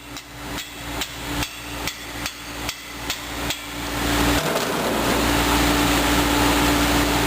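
Hammer blows knocking out oil galley plugs from an engine block in a machine shop, about eight sharp, evenly spaced strikes, then a steady loud hiss of air or washing takes over.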